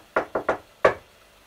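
Four knocks on a table: a quick group of three evenly spaced raps, a brief pause, then a single final rap, close, dry and clear in an otherwise quiet room.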